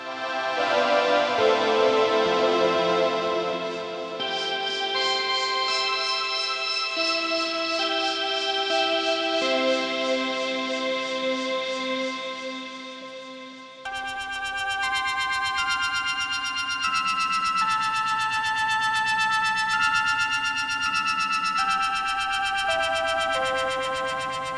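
Shifting synth pads from a Logic Pro Modular Melodies patch, with dense layered tones moved through transform pad sections, heavy with effects, distortion and chorus. The texture changes abruptly about halfway through.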